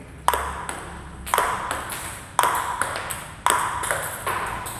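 Table tennis ball struck during short serve practice, heard as four crisp, close pops at an even pace of about one per second, each followed by a softer tick of the ball landing on the table.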